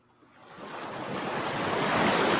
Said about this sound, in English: That sounds like an ocean